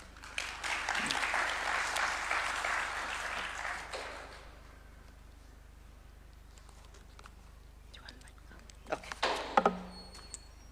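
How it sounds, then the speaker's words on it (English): Audience applause breaks out at a public speaking event, a burst of clapping for about four seconds that fades, leaving quiet room tone before a few scattered knocks and bumps near the end. "Another round of applause."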